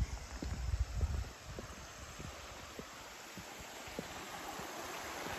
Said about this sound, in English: Look at the running water here.